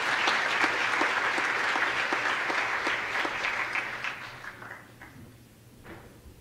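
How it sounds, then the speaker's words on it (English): Full audience applause at an education congress, thick and steady at first, then tapering into a few scattered claps as it dies away. "Give her an applause."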